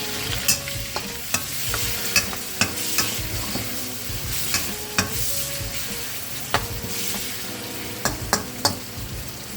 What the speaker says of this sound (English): Adding the oil. Using the wok today. Adding the shrimp.